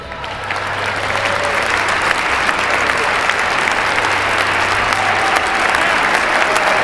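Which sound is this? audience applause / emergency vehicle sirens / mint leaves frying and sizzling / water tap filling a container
audience applause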